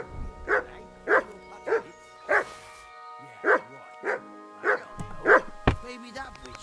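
A dog in Kingdom Come: Deliverance 2 barks in a series of about nine evenly spaced, fairly close barks, with a short pause partway through.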